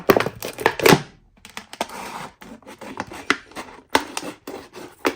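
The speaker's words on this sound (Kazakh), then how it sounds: "баклажканы алдық, енді осыны 10 сантиметрдей етіп кесеміз" A plastic bottle is cut to about ten centimetres for a tomato seedling pot, with close, irregular scraping and crunching cuts in short bursts separated by brief pauses.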